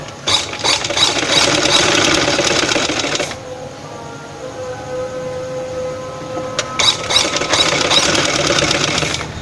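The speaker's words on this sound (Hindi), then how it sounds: "टर्न करने के बाद सीधा कर लेना इसको और इसके ऊपर सिलाई लगा लेनी है।" A sewing machine stitches over turned dori magzi trim in fast, steady mechanical bursts, drops away for a few seconds of near quiet, then resumes running at a brisk clatter.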